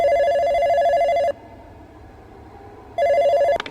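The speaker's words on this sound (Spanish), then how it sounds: "el teléfono a eso de las 3 de la tarde volvió a sonar" A telephone bell rings loudly and close in a steady electronic trill, stops for about two seconds of quiet, then starts ringing again alone.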